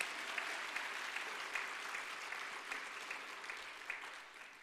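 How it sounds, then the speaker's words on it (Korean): A church congregation at a Sunday afternoon service applauds together, an even, sustained wash of many hands clapping, moderately distant and soft, fading slightly toward the end. "한번 박수 한번 다시 보내겠습니다."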